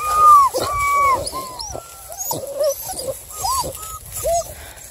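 Six-week-old Redbone Beagle Hound cross puppies whimper and squeal in a close, repeated run of high, rising and falling cries over a low background rumble.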